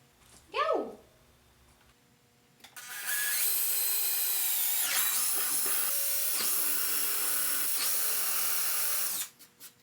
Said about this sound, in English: these I actually pre-drilled using a countersink bit